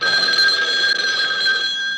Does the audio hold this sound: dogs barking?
no